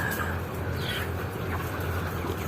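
A dense, continuous din of about 11,000 broiler chickens clucking and chirping together in a poultry house, over a steady mechanical drone.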